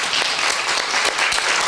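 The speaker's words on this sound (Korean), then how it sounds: "우리 박수로 우리 환영할까요?" A church congregation claps to welcome children onto the stage during a Sunday service, the applause dense and even throughout this short stretch.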